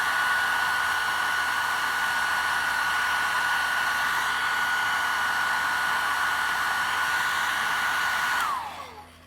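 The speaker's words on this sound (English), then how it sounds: "I'm just going to be 2 seconds just drying off the gold with the hairdryer." A hairdryer drying gold paint on a pumpkin blows a steady loud whoosh with a whining tone for about eight seconds, then switches off and winds down abruptly.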